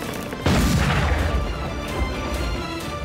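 Ship cannons firing in the naval battle game Barbarossa: Sword of the Mediterranean, with a heavy, loud boom that opens abruptly and then rolls on as a dense, rumbling burst of battle noise.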